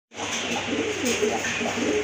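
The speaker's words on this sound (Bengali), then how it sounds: "এটা হচ্ছে আপনার রেড চেকার রেসার কবুতর" A large red checker racer pigeon gives a soft, low cooing close by, a steady murmuring call that fills the short moment with no talk over it.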